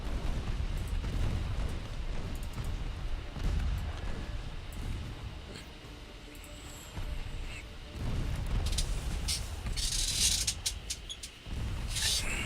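Naval guns fire during a fleet battle in Ultimate Admiral Dreadnoughts, rumbling distant booms layered over a constant low roar of battle, with sharper crackling bursts near the end; no talk.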